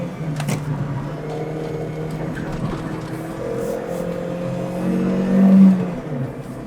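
Car on a race track braking hard with a heel-toe downshift into second gear: a steady engine drone with tonal whine that dips, then rises in a brief rev blip toward the end, loud and close, heard from inside the cabin.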